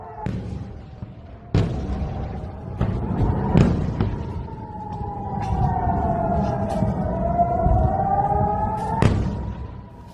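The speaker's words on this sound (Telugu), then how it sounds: "దేశమంతటా ఎయిర్ రైడ్ సైరన్ల మోత మోగుతుంది" Air raid sirens wail across Israel during an Iranian missile attack, their rising and falling tones sweeping steadily, punctuated by several sharp thuds and bangs amid a rumbling background.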